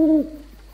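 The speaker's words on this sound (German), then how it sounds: "Bitte sag mir, dass jetzt die Eule weg ist. Macht ihr immer noch lustige Geräusche?" Owl hooting in the puzzle game Rusty Lake Paradise, a single short hoot heard alone, clear and close, fading quickly.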